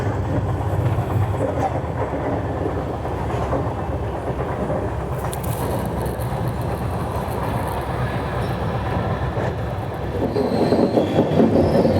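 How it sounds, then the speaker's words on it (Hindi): The Shirdi Mysuru Express rolls into Gadag Junction, a steady onboard rumble of wheels and carriages with faint rhythmic clatter, growing slightly louder near the end. "अभी हमारी ट्रेन एंटर करने जा रही है गदग जंक्शन में"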